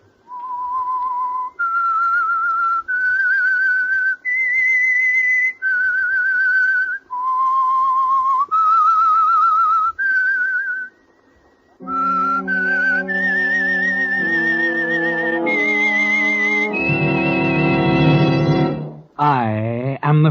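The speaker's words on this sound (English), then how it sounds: "That whistle is your signal" The Whistler theme: a lone, clear whistled melody of sustained stepwise notes with short pauses, then an orchestra enters carrying the same tune in rising held chords before a closing flourish.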